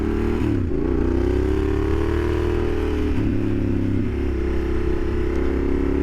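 A Yamaha Super Ténéré 1200 motorcycle ridden on asphalt, its engine droning steadily and close with a loud, even tone and slight shifts in pitch as the throttle changes, under constant wind rush.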